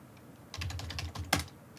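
Quick bursts of computer keyboard keystrokes type out a command, close and crisp, finished by a sharper final key press.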